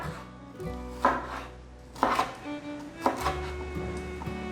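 Three firm knife strokes chop through half a red bell pepper on a cutting board, each a sharp thud about a second apart, close and clear over a low background hum.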